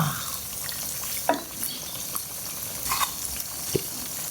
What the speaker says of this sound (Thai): พลิกไปพลิกมาเนี่ยครับคุณผู้ชมทอดไปเรื่อย ๆ ครับ